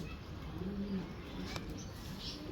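Mamdin pigeons coo softly in a loft, low murmuring calls under a steady background hum, with a faint chirp and a brief rustle.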